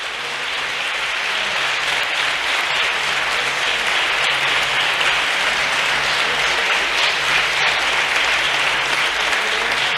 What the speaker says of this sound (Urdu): زوردار تالیاں اس کے لیے